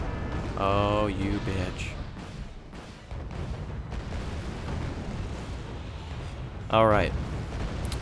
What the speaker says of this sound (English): ATGMs are firing on both sides.